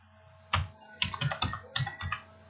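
Bursts of typing on a computer keyboard, a few quick clusters of crisp key clicks close up with short pauses between, no voices.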